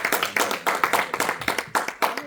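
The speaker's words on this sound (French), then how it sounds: "On va se tenir debout et puis on acclame le Seigneur." A church congregation clapping during a worship service, a quick, steady rhythm of many hands beating together, loud and close, with no one talking.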